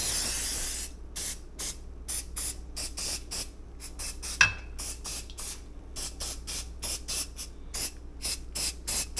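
Cooking spray is squirted onto a muffin pan in a quick series of short, sharp hissing bursts. The bursts come in an uneven rhythm, close and fairly loud, with no talking.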